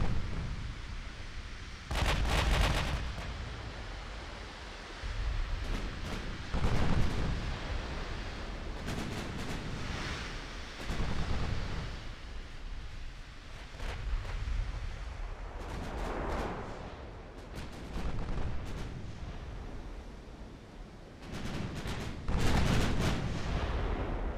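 Naval guns firing armor-piercing shells in the warship game Ultimate Admiral: Dreadnoughts, heard as repeated loud booming salvos with sharp cracks spaced every few seconds over a continuous low rumble of battle.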